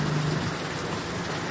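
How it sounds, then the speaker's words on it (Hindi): Steady rain falls in a continuous broadband hiss during a visit to a market stall on the pilgrimage route to Katra. It is fairly loud and even throughout, with no talk. "और बारिश आ गई बीच गए हम"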